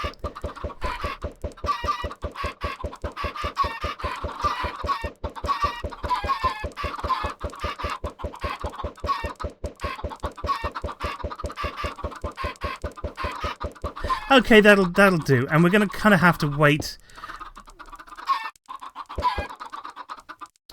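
Chickens in the Minecraft video game cluck in a fast, continuous stream of short repeated calls, followed by a burst of denser overlapping squawks before things fall quiet, while a person talks briefly.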